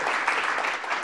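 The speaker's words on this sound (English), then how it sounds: "So let's give this these government service a round of applause." An audience at a data and service design event applauds, a short, full burst of many hands clapping steadily with no voices over it.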